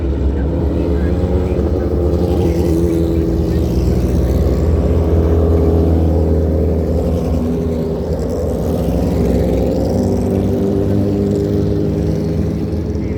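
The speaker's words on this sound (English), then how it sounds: "I got a little bit of footage from the road course so you can see kind of how many bikes were actually running around at the track." Motorcycles from B class and junior classes circle a road course track, a loud, continuous engine drone with layered overlapping exhausts, steady throughout without clear passes.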